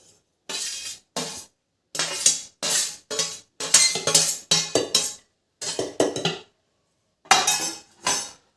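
Cooked rice for a homemade chicken biryani being spooned and layered into a cooking pot, with a series of sharp, close metallic clinks and scrapes of a utensil against the pot in irregular bursts separated by short pauses.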